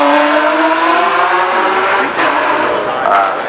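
A supercar's twin-turbo 3.8-litre engine accelerating at Goodwood Festival of Speed, a loud, close, rising roar with climbing harmonics that dips briefly as it shifts, then surges again.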